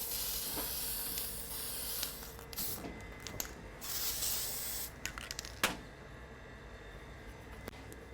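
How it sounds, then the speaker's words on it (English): An edible gold spray can hisses in bursts, with broad airy spray sounds starting and stopping several times, close up and fairly quiet, with small clicks between. "who told me where to get this lovely edible gold spray"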